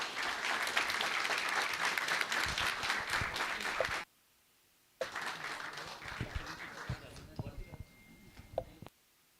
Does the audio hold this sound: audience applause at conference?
yes